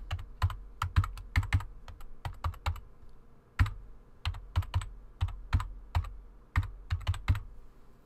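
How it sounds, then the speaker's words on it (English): Keys clatter on a computer keyboard as a web address is typed, giving quick uneven bursts of close, crisp clicks with short pauses between runs and no voices. "I'm going to type in the link"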